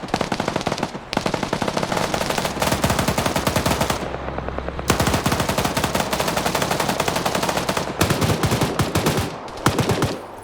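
A 14.5 mm heavy machine gun fires in a large-scale multiplayer military video game, long dense bursts of loud, close automatic fire with a brief pause before the rattling resumes.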